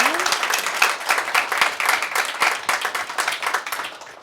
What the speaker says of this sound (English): Let's give a round of applause and thank you for their time.